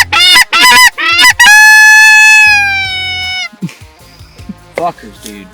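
Loud, close honking from waterfowl being fed peanuts, with several sharp honks in quick succession and one long drawn-out call, followed by scattered quieter calls and some voices.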